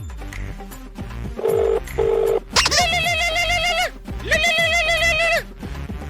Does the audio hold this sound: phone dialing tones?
yes